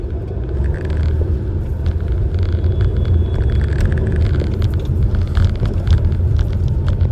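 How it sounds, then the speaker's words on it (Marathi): A car driving through Mumbai traffic, heard from inside as a steady low engine and road rumble that holds throughout, with no talking. "सध्या ना या मुंबईत गाडी चालवणं झालंय बिकट."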